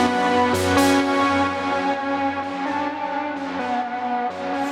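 A melodic techno synth melody plays: a sustained, richly layered tone with shifting pitches, soft swelling attacks and a long delay tail, steady and full with no voices.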